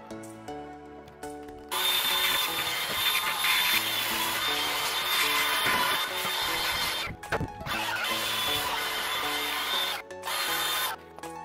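A power sander works over the edges of a wooden plate for a Jeep rear mount, a loud steady whine running nearly continuously after a short quiet start, with two brief pauses where the tool lifts off.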